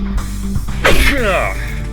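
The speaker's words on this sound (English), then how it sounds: "Had to sneeze there." A single sudden sneeze bursts out close up, partly muffled, over a background of music or game sound.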